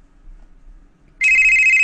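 A telephone starts ringing after a near-silent pause, giving one loud electronic bell tone that holds steady for about half a second and then stops.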